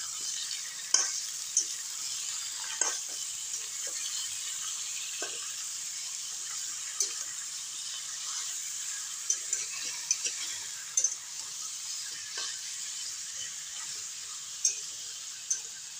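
Chicken and potatoes frying in a pan while being stirred, with a steady, quiet sizzle and scattered scraping clicks and taps from the spoon throughout.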